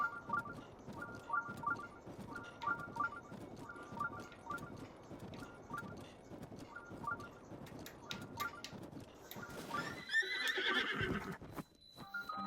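A horse in Zelda: Breath of the Wild, with rhythmic clip-clop hoofbeats trotting steadily for about ten seconds, then a loud close whinny near the end.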